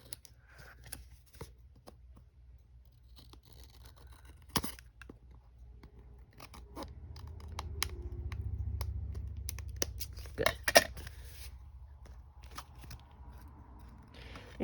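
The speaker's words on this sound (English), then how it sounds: "I need to trim just a little bit off of this cover." Scissors trim the cover of a junk journal made from recycled materials, sparse quiet snips and paper rustles close by, with a brief muffled handling swell in the middle.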